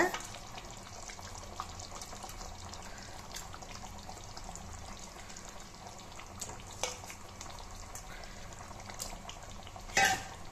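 Continuous sizzling in a pan of sardine fish curry with soft scraping and stirring, an occasional louder clink of a utensil against the pan near the end.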